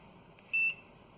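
A Snap-on battery tester, checking a 2006 Chevy Trailblazer battery, gives one short, clear electronic beep after its enter button is pressed, standing alone against quiet background hiss.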